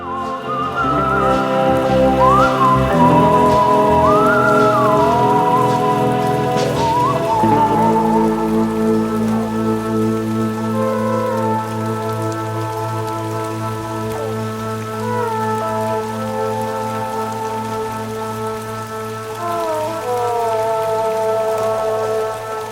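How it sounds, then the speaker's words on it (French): Heavy rain falls steadily during a forest hike on the Sentier Cathare, a constant dense patter heard up close over a muddy trail, with no talking. "C'est la première fois que je fais une randonnée où il pleut autant et que il y a autant de gadou."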